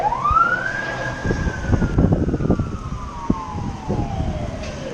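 A fire truck siren passes by during a rainstorm in the hills, a long wail that rises and then slowly falls in pitch as it moves away, heard over steady background rain noise.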